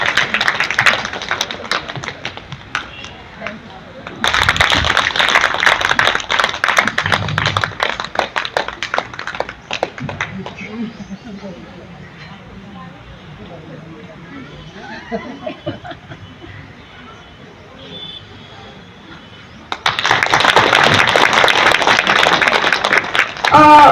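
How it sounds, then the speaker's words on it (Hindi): Applause from the audience at an International Women's Day celebration by a trust, welcoming the chief guest: several bursts of dense clapping, loud and close, with a quieter stretch of murmur and chatter between them. "इसके साथ ही है मुख्य अतिथि के लिए जोरदार तालियों से स्वागत हो जाए इनका भी"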